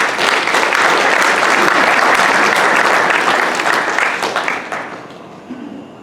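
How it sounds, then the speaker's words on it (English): A banquet audience at a 1970s reunion breaks into loud, sustained applause that tapers off near the end, leaving quiet room noise. "a round of applause for these folks."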